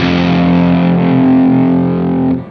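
Loud electric guitar through an LSL Vital DS distortion pedal, a single thick distorted chord held and ringing steadily for about two seconds before being cut off, with no talking.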